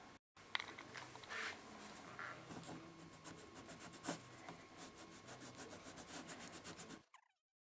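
Hand rubbing on the metal hardware trim of an antique steamer trunk during restoration, a close, gentle, steady back-and-forth scrubbing that runs for several seconds with no talk.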